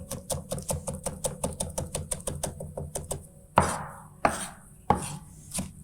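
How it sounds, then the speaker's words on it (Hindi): A knife rapidly and finely chopping green chillies on a cutting board, a steady run of close, crisp knocks followed by a few heavier, spaced chops. "हरी मिर्च भी साथ में हम बारीक चॉप कर लेंगे इसी के"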